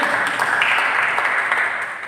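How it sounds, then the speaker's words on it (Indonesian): A church congregation at a Good Friday service applauds in a steady, even wash of clapping that fades slightly toward the end. "Berikan tepuk tangan bagi kita."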